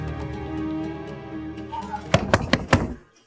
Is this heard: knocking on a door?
yes